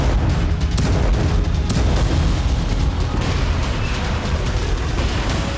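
Wartime explosions in Kyiv during the Russia-Ukraine war come through as a dense, continuous low rumble with repeated booming bursts, loud and unbroken throughout, without voices.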